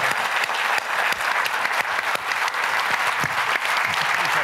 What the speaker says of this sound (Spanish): Pedí un abrazo y me dieron un aplauso.